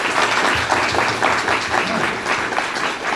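An audience at a forum on income inequality applauds its speakers in a steady, dense round of clapping filling the hall at full volume throughout.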